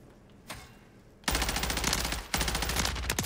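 BP-50 gunfire in Modern Warfare 3 sounds as loud, rapid automatic bursts, with one long burst, a brief pause, then another burst, preceded by a single softer shot.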